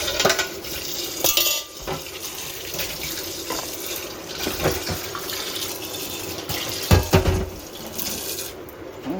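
Metal kitchen utensils are rinsed and scrubbed under running tap water, with steady splashing, clinks and clatters of pots and cutlery close by and no talk.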